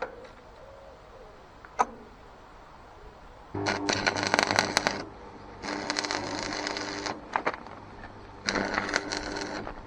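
Welding crackles and sizzles in three separate bursts with short pauses between them. A sharp click comes earlier over a quiet background.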